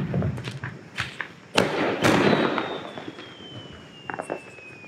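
Diwali firecrackers go off: two sharp, loud bangs followed by crackling bursts, with a thin, falling whistle trailing across the end and smaller pops scattered around it.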